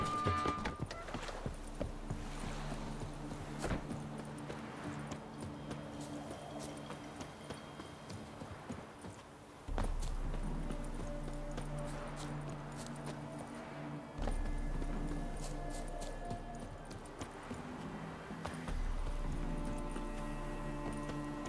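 Roach's hooves clip-clop steadily at a trot on the ground in The Witcher 3, close and continuous, with an occasional whinny, some game speech and ambient music layered over the hoofbeats.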